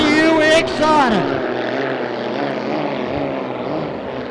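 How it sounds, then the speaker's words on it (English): The Rolls-Royce Merlin engine of an unlimited hydroplane racing boat at a Griffith Cup race, a loud throaty aircraft-like roar whose pitch swings as it fires up and settles into a steady drone, with commentary heard over it. "Ricky Howard gets the big Rolls-Royce Merlin fired up"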